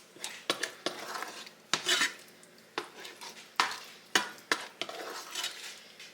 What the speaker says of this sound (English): Get that stirred around, get all that heated up again